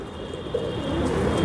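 Paon moz (feather-footed) pigeons flying in a flock, with soft cooing and bird calls over a low, steady background hum, fairly faint and continuous.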